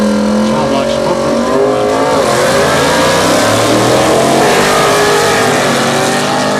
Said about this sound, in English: Andy Brudell out of Bradenton in the 40 Chevy, got a small block smoker.